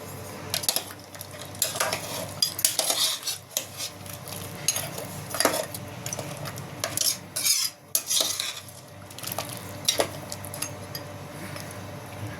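A spoon stirs mutton curry in a pot, with irregular scraping and clinking strokes against the metal, close and fairly loud, and no talking.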